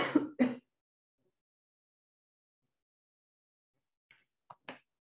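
One person coughs twice in quick succession, then, after a long silence, clears their throat with a few short, close bursts.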